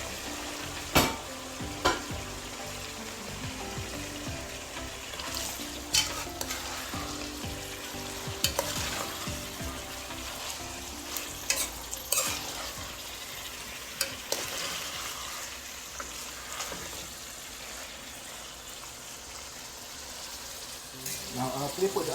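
Ackee frying and being stirred in a pot while cooking ackee and saltfish, a steady sizzle under repeated scraping stirs and clacks, close and moderately quiet.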